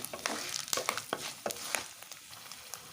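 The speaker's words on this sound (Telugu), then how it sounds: "ఇలా వీటన్నిటిని ఆయిల్లో అయితే మంచిగా వేయించుకోవాలి" Curry leaves, dried red chillies and spices frying in hot oil for a Nalleru pickle, a steady close crackling sizzle with sharp pops and occasional stirring scrapes, no voices.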